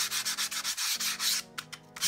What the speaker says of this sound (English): I'm taking my Flory sanding stick. This is 240 grit. And I'm going to go round like this